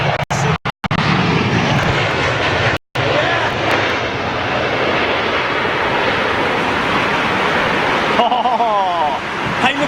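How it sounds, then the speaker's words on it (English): Roaring jet engine noise from an Emirates Airbus A380 at London Heathrow on a stormy day, a loud continuous rumble with wind buffeting the microphone and people talking over it. "Emirates 380 should be leaving the stand"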